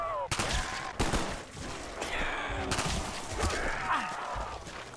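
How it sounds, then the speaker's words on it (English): Rapid bursts of gunfire from Call of Duty Black Ops zombies mode on the Call of the Dead map, dense repeated shots over game effects with brief voices mixed in. "Probably waste a few bullets on George as well."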